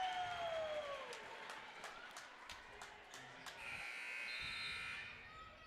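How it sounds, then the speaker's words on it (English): A buzzer sounds at a JV and varsity high school basketball game, echoing in the gym amid crowd noise and squeaking shoes, with a rising electronic tone near the end. "Buzzer sounds."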